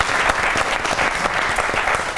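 Studio audience at a comedy talk show clapping, a dense burst of applause that stays loud and steady throughout, with no speech over it.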